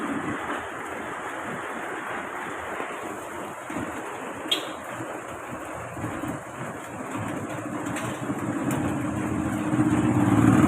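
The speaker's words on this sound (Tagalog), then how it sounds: "Umulan. Umulan." Rain falls in Tondo, Manila in a steady, dense hiss that swells slightly toward the end, with a few faint knocks in the wash.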